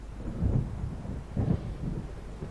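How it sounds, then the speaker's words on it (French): Low rumbles of thunder from an approaching storm in the video game Alan Wake: two deep, muffled rolls about a second apart, with a softer rumble trailing after, fairly faint and distant with no talk. "On dirait qu'un orage approche."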